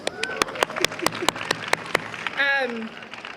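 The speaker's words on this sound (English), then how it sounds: "seriously deserves another round of applause" Scattered sharp claps ring out, a thin, sparse round of applause, followed by a brief tonal sound over faint background noise.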